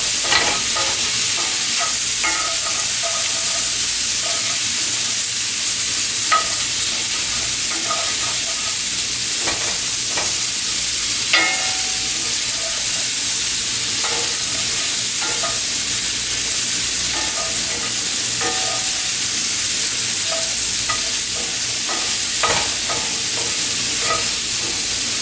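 Fennel fries in a skillet on the stove, a steady bright sizzle that runs throughout, with occasional stirring scrapes and clicks of a utensil in the pan.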